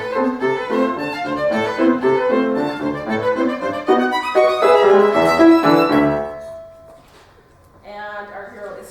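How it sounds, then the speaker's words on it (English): Fast, busy chase music for a story, with dense layered tones driving loudly for about six seconds before thinning out, a brief quieter passage following near the end. "Here's what the chase music sounds like."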